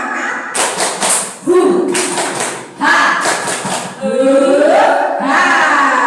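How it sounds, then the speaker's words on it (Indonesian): A group of women performs a tepuk semangat clapping chant at a school gathering, with bursts of rhythmic clapping mixed with loud shouted voices that call out in unison between the claps. "Tepuk semangat"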